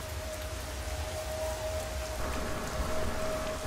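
Steady rain falls in the video game Everybody's Gone to the Rapture, a continuous close hiss of drops spread evenly across the whole stretch with no voices.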